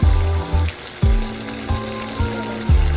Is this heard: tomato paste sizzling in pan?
yes